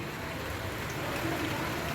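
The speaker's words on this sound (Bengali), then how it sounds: "ওয়াও ফাইনালি বৃষ্টি হচ্ছে" Rain falls steadily, a dense, even hiss of moderate loudness that holds unchanged for the whole two seconds with no distinct drops standing out.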